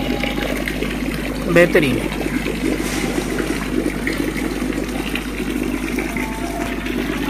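Water churned by air from an aerator pump bubbles and sloshes in a biofloc fish tank, a steady broad wash close by with a brief spoken remark over it.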